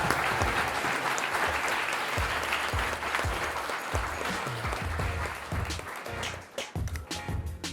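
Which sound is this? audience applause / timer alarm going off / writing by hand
audience applause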